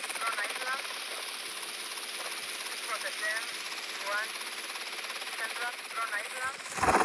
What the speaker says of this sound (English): I hear helicopter, bro.